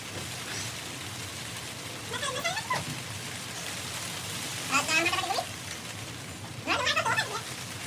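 Steady, soft rain falls throughout as a faint, even hiss, with a few brief bursts of voices rising above it.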